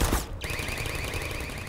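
Automated turrets fire in Half-Life 2, a dense, continuous rattling burst of rapid gunfire with a high whining tone running through it, loud and close throughout.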